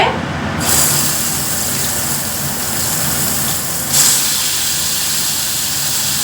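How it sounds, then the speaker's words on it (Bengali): A kitchen chimney exhaust hood runs steadily during cooking, a loud broadband airy whoosh and hum that holds constant throughout, with a brief hissing swell near the start and again partway through. "চিমনিটা ছেড়েছি তো তাই একটু আওয়াজ হচ্ছে"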